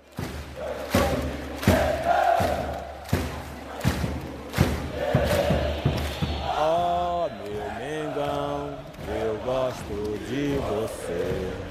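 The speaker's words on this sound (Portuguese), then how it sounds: "A torcida então cantou como nunca." A huge Flamengo football crowd in a stadium roars and thumps, then breaks into loud massed chanting and singing with rising and falling sustained voices filling the space.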